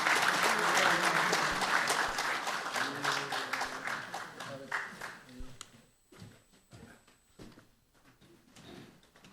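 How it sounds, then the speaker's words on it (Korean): Applause fills a Korean founding ceremony hall as a speaker is welcomed, loud and steady at first, then thinning into scattered claps that fade out. "여러분 큰 박수로 맞아주시기 바랍니다."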